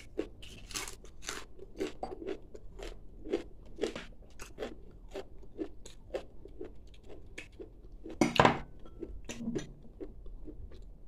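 Crunchy white plantain being chewed close up, a long run of sharp, crisp crunches in steady rhythm with one louder, drawn-out bite near the end, with no talking.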